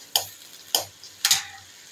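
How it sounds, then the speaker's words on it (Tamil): Small onions sautéing in a pan for sambar: three distinct scraping stir strokes spaced about half a second apart, with a faint sizzle between them, close and fairly quiet. "வெங்காயம் நல்லா வதங்கிடுச்சுங்க."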